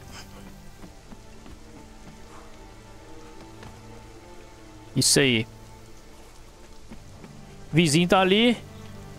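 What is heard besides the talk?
rain falling, from video game Conan Exiles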